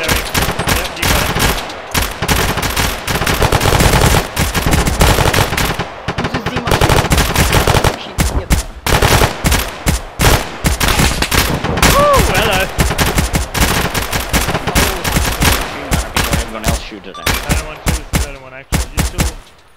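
A light machine gun in a video game fires repeated loud, rapid bursts with short pauses between them, dense and close, nearly continuous for the whole stretch, with a little radio-style talk mixed in.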